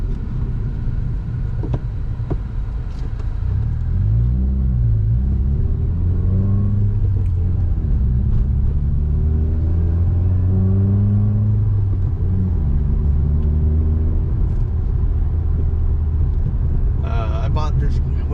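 Engine of a 2019 Subaru WRX with a 2-liter turbo, a low steady rumble while driving with rising and falling rev sweeps, continuous under people talking in the cabin.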